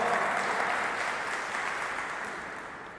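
A congregation at a church sermon applauds steadily for a few seconds, dense clapping that fades slightly toward the end.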